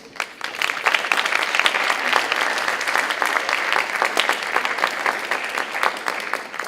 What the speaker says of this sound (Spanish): contamos con la presencia del maestro Enrique Schmeling-Lubinsky, para quien pido un afectuoso aplauso.